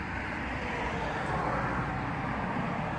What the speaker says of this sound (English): I live on a busy road.